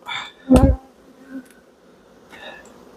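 Honeybees from a big colony buzz in short, close bursts during a hive inspection, punctuated by one sharp louder knock, with quieter gaps between and no speech.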